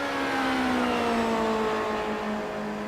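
A race car engine in the iRacing simulator at the Daytona road course holds a high, steady whine with gliding pitch as it revs, loud and continuous with no talk.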